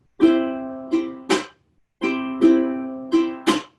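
Ukulele strummed in a quick down, up, muted scratch, up pattern for the rhythm of a song, played twice with clear bright chords and sharp percussive chunks, close and alone.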